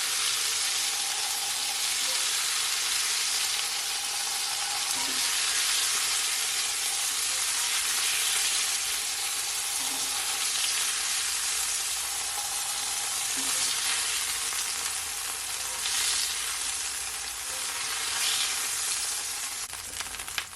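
Steak pieces for Jamaican pepper steak browning in a hot pan, a steady broadband sizzle and fry that holds for the whole stretch with faint stirring, close up and with no talking.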